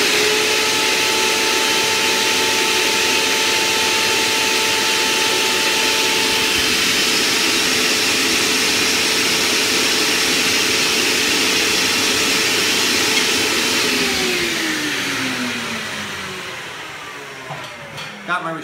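A heat gun blows across shrink wrap on a drinking straw held in a hose under vacuum, giving a loud, steady, close whirring roar that winds down in the last few seconds.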